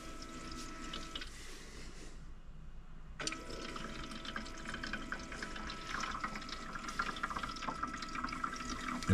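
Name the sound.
Insignia portable ice maker pumping water up into basket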